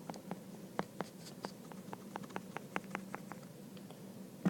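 Writing is erased from a board in a short run of quick, light rubbing taps, soft and close over a quiet hum.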